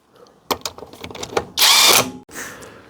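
A power tool torques a car's wheel nuts, giving several short mechanical buzzes followed by a loud, sustained whir and then a last burst, all close and without speech.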